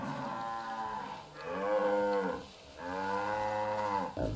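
Cattle in Far Cry 5 lowing in long, loud, drawn-out moos, three calls in a row, close by and clear with no talk over them.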